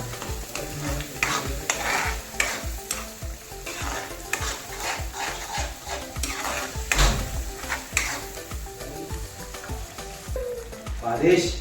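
Food sizzles steadily in a hot pan while a utensil stirs and scrapes against it, close and continuous, with occasional metallic knocks of cookware and a faint voice in the background.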